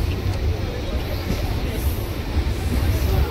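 Rumbling rail noise as the Howrah Adra Express passes at Panskura junction, a steady loud wash of wheels and carriages heard from a nearby train, with no speech over it.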